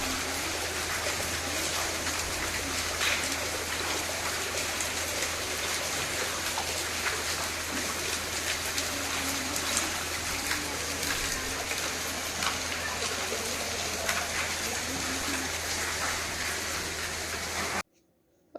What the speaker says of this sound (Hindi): बारिश हो रही झमाझम